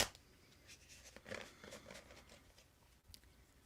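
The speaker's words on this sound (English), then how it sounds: "shuffling for you, Mary Jane." Tarot cards being shuffled by hand, a soft, quiet papery patter of riffles and taps close to the microphone, with no one speaking.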